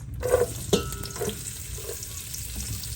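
Onions land in hot oil and start frying, a sharp sizzling burst and a few clinks of stirring giving way to a softer continuous crackle, close up with no voices.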